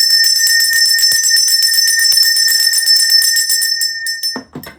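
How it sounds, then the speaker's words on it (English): A bell rings loudly and repeatedly in a fast sustained shimmer of bright metallic tones, then stops abruptly and gives way to brief handling noises. "Ring this bell."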